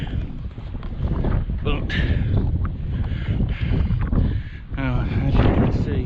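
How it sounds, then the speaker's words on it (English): Strong wind buffets the microphone outdoors on the open crags of Ramshaw Rocks, a loud, gusting roar that rises and falls throughout while someone talks over it. "now I'm in the open again, the wind's back"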